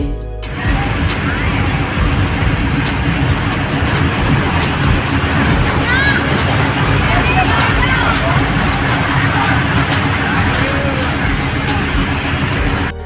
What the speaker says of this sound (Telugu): ఈ గేమ్ వచ్చేసి సూపర్ డ్రాగన్ ట్రైన్ ఇక్కడ ఎక్కితే ఎక్కడైనా దిగొచ్చు